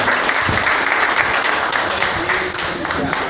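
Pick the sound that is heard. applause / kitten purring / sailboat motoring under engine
applause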